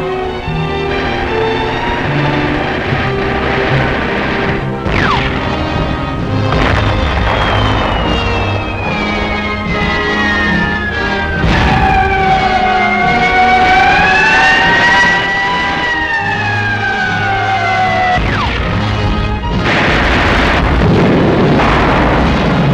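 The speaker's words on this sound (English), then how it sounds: "Bombardment, shell fire, death, destruction." Wartime bombardment and shell-fire effects from a 1942 American film: a dense, loud, continuous barrage of rumbling blasts and engine roar, with long falling and wavering whistles sweeping through the middle, all without speech.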